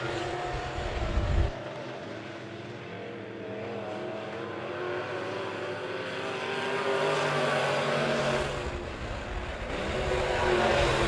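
Late model race cars circling Monett Motor Speedway, a continuous roar of engines that swells as the pack passes close, with no talk over it.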